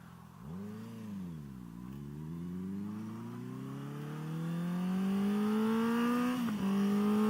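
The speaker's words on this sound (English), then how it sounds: "The little pops that that exhaust makes, Jesus." A Honda CB650FA motorcycle engine revs close by, its pitch dipping and then climbing steadily through the gears, loud and continuous with a brief stutter of exhaust pops near the end.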